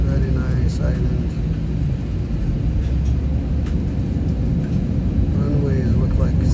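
A passenger airplane sits on a long runway between mountains at Phuket before takeoff, its engines giving a steady, loud low rumble and roar throughout, heard from inside the cabin.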